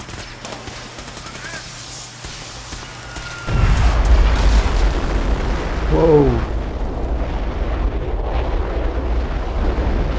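Weapon test firing in Fallout 4: after a quieter stretch, a loud, heavy blast erupts and settles into a sustained roaring rumble with crackling bursts and a whistling sweep, as a voice speaks in the background.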